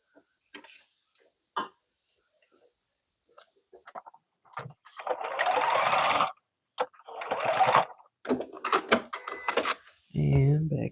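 Short bursts of sewing-machine stitching along a seam on an old quilt under repair, close and fairly loud, with quiet ticking clicks in the gaps between runs and a little talk at the end.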